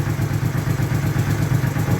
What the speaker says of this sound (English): I'm just going to let it warm up a little tiny bit more because it will probably speed up as the engine heats up